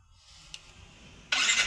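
A Yamaha NMax 155 scooter after a battery change: a quiet electrical hum and a click, then the engine catches and starts with an abrupt, loud, steady idle.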